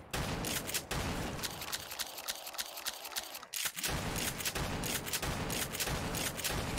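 Shotgun blasts in Black Ops 3 Zombies, several sharp loud shots spaced irregularly amid dense game noise, with a brief quieter gap midway.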